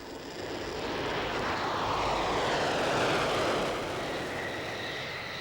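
A Mirage delta-wing fighter jet flying past during a military exercise at Balıkesir, Turkey, its loud broad engine roar swelling toward the middle and easing slightly as it passes, with no talking.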